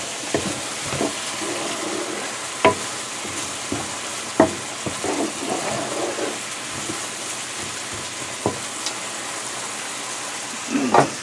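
Sauce reduces in a pan in a home kitchen with a soft, steady bubbling sizzle. Scattered faint clicks and light knocks sound over it, and no one speaks.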